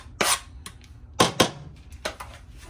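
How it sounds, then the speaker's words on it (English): A knife chops green onions for a fish dip, with a few sharp, irregular thunks against the board heard close up and clear in short bursts. "just chop up a little bit of green onions to add to the fish dip"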